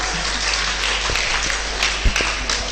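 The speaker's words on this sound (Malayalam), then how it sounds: "ക്ലാപ്പ് അടിക്കുക, നല്ലൊരു ക്ലാപ്പ് കൊടുത്തേ." An audience claps together in a steady, dense wash of applause at moderate distance, with a low background hum throughout and no talking.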